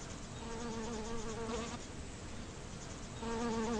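Steady, close buzzing of bees flying between flowers, a droning hum easing off briefly in the middle before swelling back up.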